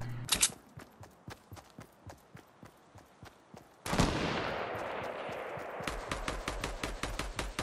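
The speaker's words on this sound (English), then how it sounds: "They're still sniping at me though." Sniper shots and rapid gunfire ring out in a video game as a steady run of sharp cracks, then a dense burst of fire and loud, continuous rumbling noise.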